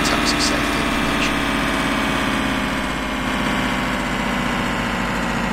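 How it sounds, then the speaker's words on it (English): Boeing 707 engines spooling up in a flight simulator cockpit, a steady loud droning hum with low rumble and a high whine, constant throughout with faint voice-like chatter underneath. "We'll start the engines"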